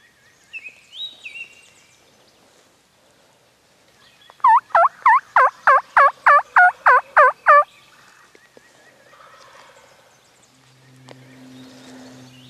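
A wild turkey gobbles outdoors in spring, roughly 75 to 80 yards off, a rapid burst of about ten loud rattling notes lasting a few seconds, preceded by faint bird calls and followed by quiet ambience.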